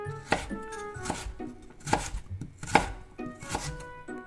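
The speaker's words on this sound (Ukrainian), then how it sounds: "Це овочі нарізають." A knife chops vegetables on a board in a steady rhythm, about six sharp, close strikes with no talking.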